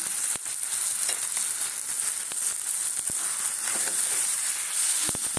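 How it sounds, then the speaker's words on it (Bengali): A loud, constant sizzle rises from a pan of boiled potatoes and onions with sugar, broken by brisk scraping strokes and clicks of a spoon being stirred through it. "চিনি দিয়ে একটু নাড়া দিচ্ছি"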